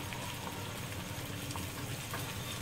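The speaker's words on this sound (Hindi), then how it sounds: "इसके अंदर हम जो कटोरी बनाई है वो डाल देंगे और इसको बिल्कुल लो आंच पे हम फ्राई करेंगे" Katori dough cups frying in hot oil over a very low flame, giving a steady, soft, close crackling sizzle with no voices.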